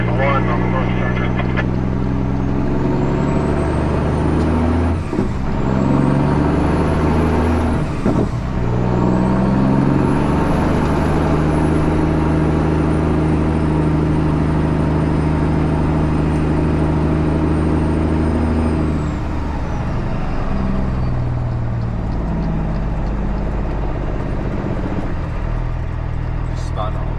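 Heavy tow truck fitted with two sets of tire chains, its diesel engine droning loud and steady with rising revs as the wheels spin, people talking over it throughout.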